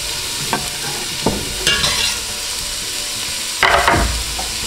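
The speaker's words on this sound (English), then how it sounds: "right now we have the olive oil heating in the pot here, and I'm going to add my onion" Chopped onion sizzling in hot olive oil in a pot, a steady close hiss broken by several sharp scrapes and knocks of stirring, with no talk.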